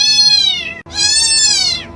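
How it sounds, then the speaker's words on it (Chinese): A played recording of a kitten's distress cry: two long, loud, strained meows that fill the clip, broken by a brief gap, sounding close and insistent. "这是小奶猫的求救信号"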